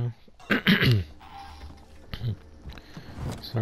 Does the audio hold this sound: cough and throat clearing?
yes